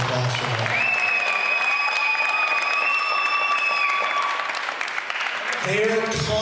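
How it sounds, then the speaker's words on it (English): Applause from an audience at a tribute to Frank Trosky Sr. and Pat Trosky, a dense, loud wash of clapping with cheers and a sustained whistle, holding steady for about five seconds before voices break in at the end. "Can I please get one more round of applause for them?"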